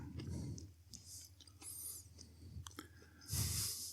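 Crunchy waffle being chewed close up in a few crisp bites, with a louder crunchy burst at the end over quiet background.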